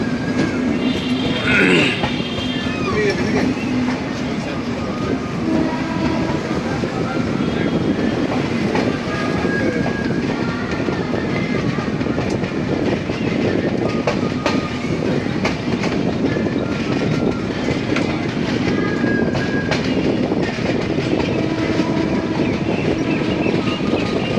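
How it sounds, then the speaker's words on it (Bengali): The Kanchankanya Express rumbles steadily along the rails toward Bagdogra, a continuous loud roar of wheels with rhythmic clickety-clack, heard from inside the moving train for the full stretch, with faint voices now and then. "কাঞ্চনকন্যা এক্সপ্রেস তার পরবর্তী গন্তব্য বাগডোগরার উদ্দেশ্যে যাত্রা শুরু করলো"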